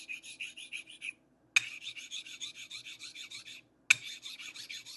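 A straight razor strokes back and forth across a Zulu gray honing stone wet with slurry, giving rhythmic, gritty rasping passes with two short pauses and two sharp clicks, close and fairly quiet.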